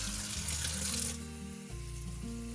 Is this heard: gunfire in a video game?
no